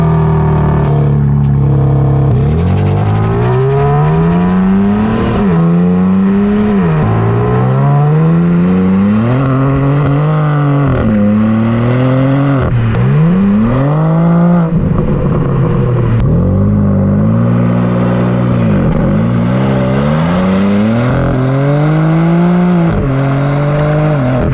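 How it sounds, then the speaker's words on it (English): Quad exhaust of a 2021 BMW M3 Competition G80, revved repeatedly up and down for a long stretch, loud and close with rising and falling engine tones and sharp crackles between revs. "even bigger are the tailpipes, the quad exhaust back there, which sound just insane."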